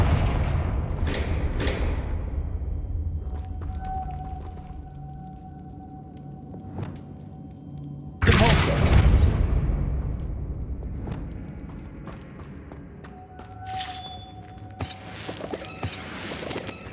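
Confringo explosion spell cast in Hogwarts Legacy, several bursts of sharp blasts followed by a deep booming explosion midway, with rumbling decay and smaller hits afterward, loud and close.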